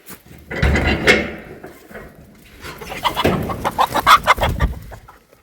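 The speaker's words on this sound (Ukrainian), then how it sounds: "Аж одна курка вийшла." Chickens clucking close by in short, irregular bursts, with a louder squawk early on and a quick run of clucks near the end.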